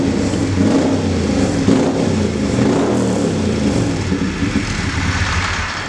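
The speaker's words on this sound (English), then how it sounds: "Real motorbike, that sounds like a real motorbike to me." A motorbike engine revs and growls continuously up close, its deep rumble rising and falling slightly with the throttle.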